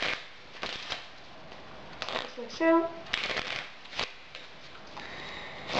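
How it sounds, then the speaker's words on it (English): Cards shuffle with quick riffling bursts and soft slaps, several separate flurries, close by, while someone briefly speaks in the middle. "we're going to shuffle up the deck"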